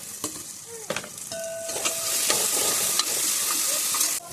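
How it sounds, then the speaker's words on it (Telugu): Tomatoes and ginger garlic paste frying in a pan for tomato pulao: a sizzle that swells into a steady hiss, broken by sharp knocks of a stirring spoon, with a brief faint tone early on and no talking. "ఫ్రెష్గా దంచుకున్న అల్లం వెల్లుల్లి పేస్ట్ అనేది వేసుకొని పచ్చివాసన పోయే వరకు వేయించుకోవాలి"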